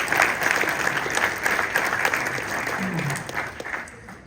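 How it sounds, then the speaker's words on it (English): A crowd at a Chinatown community meeting with the mayor claps steadily in a sustained round of applause, fairly close and even throughout, with a brief voice heard partway through. "Give all of them a round of applause,"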